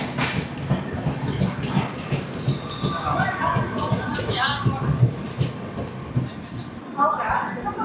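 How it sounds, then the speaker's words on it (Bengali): Howrah Mail passenger train rolling into Nellore Junction, with a rumbling, rattling carriage clatter and rhythmic wheel knocks throughout, mixed with nearby voices and cabin noise. "তো আমাদের ট্রেন ঢুকছে তার দ্বিতীয় হল্ট স্টেশন নেল্লোর জাংশন।"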